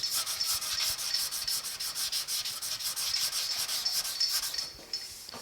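Rhythmic back-and-forth hand sanding of body filler on a 1950 Chevy truck, steady rasping strokes close up, slowing near the end, with no talking.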